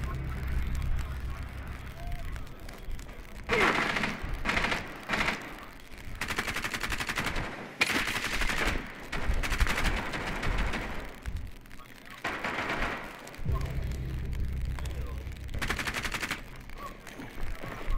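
Repeated bursts of automatic gunfire in a video game, coming and going in loud volleys over steady background game noise, while people talk over the action in Spanish.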